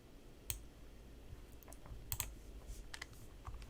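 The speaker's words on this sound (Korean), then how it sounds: "저는 기존에 있는 것들을 활용해서 컨트롤 D 눌러서 빈 공간에 맞게 딱 채워주겠습니다." Quiet key presses on a computer keyboard while building in ZEPETO Build It, a handful of sparse, crisp clicks spread over a few seconds in an otherwise hushed room.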